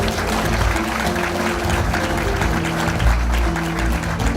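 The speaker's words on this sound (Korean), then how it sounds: "여러분 큰 박수로 환영해 주시기 바랍니다." An audience at a political party founding convention applauds to welcome the co-chair, a broad steady roar of clapping with low rumbling music or noise beneath, continuous and fairly loud.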